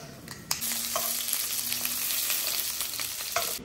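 Eggplant fries in plenty of oil with a dense, steady hiss and crackle, a few sharper pops and stirring clicks breaking through, close and continuous with no voices.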